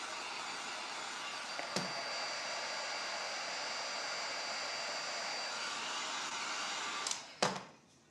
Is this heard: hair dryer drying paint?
yes